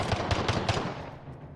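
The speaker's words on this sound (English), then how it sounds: "Throwing a little bit of gunfire down the line at CHEECH." Rapid automatic gunfire from a video game shooter match in a 2v2 Gunfight esports final, four quick, sharp bursts in even rhythm and then a fading tail.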